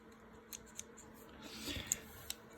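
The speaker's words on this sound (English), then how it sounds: "I take my trimmers and I trim off all of the roots as close as I can" Hand trimmers snipping the roots off plant rhizomes, a few quiet separate clicks of the blades over a faint background.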